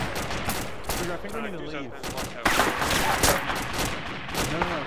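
Bursts of automatic machine gun fire in the military video game Arma 2, loud and repeated, overlapping radio-style voices talking throughout.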